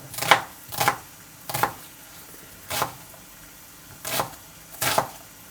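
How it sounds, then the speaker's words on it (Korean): Carrots chopped finely with a knife on a board for curry, six distinct close knocks at uneven intervals with quiet gaps between them. "어, 당근 싫어하니까 잘게 썰어."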